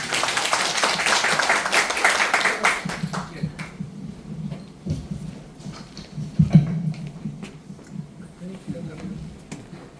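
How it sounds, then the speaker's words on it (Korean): Audience applause at a Korean small-business owners' association lecture, loud dense clapping for the first few seconds that fades out while a speaker's voice takes over. "큰 박수 부탁드리겠습니다."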